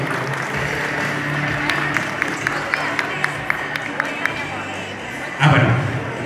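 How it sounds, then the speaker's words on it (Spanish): Applause at a primary school event in Tuxpan, heard as a moderate crowd clapping steadily under a noisy hall, with a few sharper claps standing out and a brief louder burst near the end. "¡Que se escuchen esos aplausos!"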